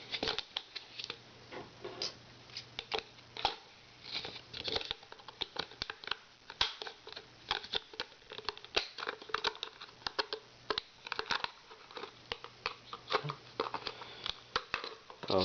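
Scissors snip through a DIY plastic mounting fixture for a FLIR camera adapter, finishing a partial cut; close, dense run of crisp clicks and crunching snips with steady rustling handling noise and a faint low hum.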